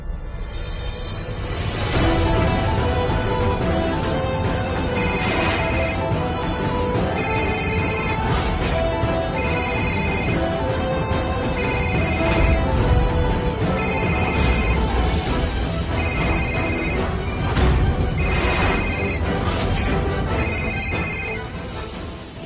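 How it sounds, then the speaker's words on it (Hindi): A mobile phone ringtone plays during a call, a loud, continuous melodic tune with a bright repeating chime motif and a steady beat underneath, lasting throughout. "ये रिंगटोन"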